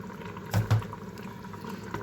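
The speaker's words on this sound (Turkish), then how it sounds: "Şimdi birazcık da sıcak su ekleyeceğim." Hot water is poured into a pot of meat and dried beans, giving two short liquid splashes in a quiet kitchen with no talk.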